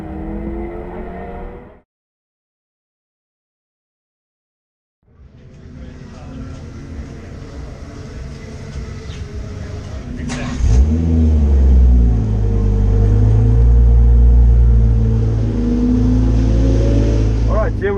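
A 2017 BMW M240i pulls hard on a drag run at Killarney International Raceway, the engine loud and near as it revs and climbs through the gears after a brief silence, with a deeper surge midway.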